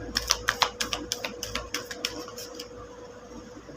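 Tarot cards being shuffled by hand produce a quick series of crisp, regular riffling snaps that fade toward the end, close and distinct against a faint background hum.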